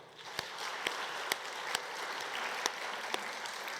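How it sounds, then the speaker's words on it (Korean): Congregation applause for the orchestra during a Sunday church service: a steady, fairly quiet wash of many hands clapping, with a few sharper individual claps standing out at regular moments. "우리 관현악팀 박수 한번 하겠습니다."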